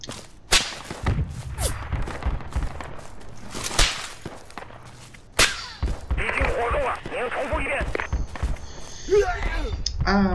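Gunfire in the Project Reality military shooter game, with several sharp, loud broadband cracks spread across the clip amid rustling movement and scattered game noise, with someone talking over it.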